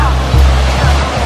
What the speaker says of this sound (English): It is a water fountain